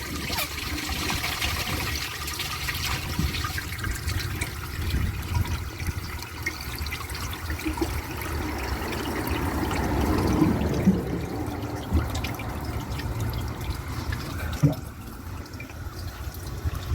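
A toilet clogged by a washcloth flushes, with running, swirling water and low gurgling that swells midway, then settles into a slow trickle with a brief knock near the end.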